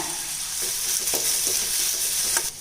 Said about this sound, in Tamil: இப்போ பாருங்கள் தக்காளி வெங்காயம் எல்லாமே நல்லா வதங்கிடுச்சு